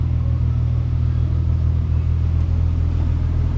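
An MG ZT 190 sits idling close by, its engine giving a loud, steady low rumble with an even throb and no revving or talking.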